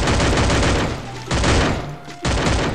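Gunfire in the video game Free Fire: loud, dense bursts of rapid shots fill the clip, breaking off briefly twice before resuming, with no talk over them.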